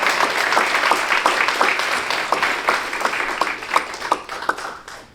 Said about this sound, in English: round of applause for Coach Ricky Dello